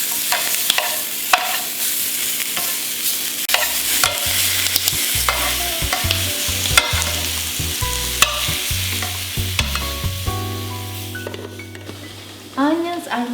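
Eggplant and onions brown in a frying pan and are turned repeatedly, giving a loud close sizzle with frequent scraping and clattering strokes from the stirring.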